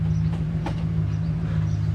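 A 2009 Hemi Ram truck idling as it is dropped into gear: a steady low, even engine rumble close by, with no voices.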